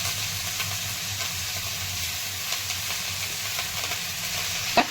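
Cleaned whole fenugreek leaves sizzle steadily in hot oil in a pan, a continuous close frying hiss with occasional light scrapes from stirring throughout.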